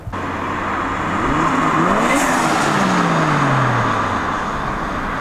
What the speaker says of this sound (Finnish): että miltä se auto nyt niin kuin kuulostaa